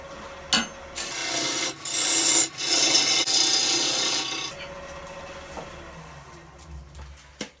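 Lathe gouge cutting into a wild birch bowl blank on a woodturning lathe, a loud rasping, scraping shear in long sustained passes with short breaks, a steady motor hum underneath.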